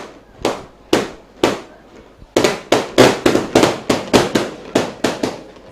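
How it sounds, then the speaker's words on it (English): Firecrackers going off at a schools rugby league match, a rapid string of sharp cracks, sparse at first then bursting into a dense, steady volley of loud pops. "Firecrackers going off, maybe some that were bought."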